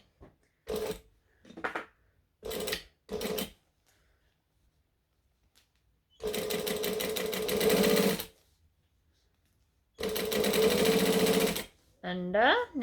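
A sewing machine stitches down pocket trim in short bursts, first four quick runs, then two longer steady stretches of rapid mechanical whirring, with quiet pauses between.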